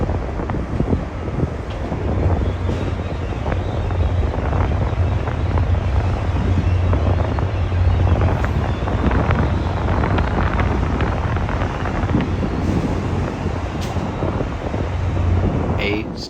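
Erie-Lackawanna heritage-painted New Jersey Transit locomotive number 4519 pulling into Hoboken station, a steady loud low engine rumble sustained throughout with wind buffeting the microphone and some background voices.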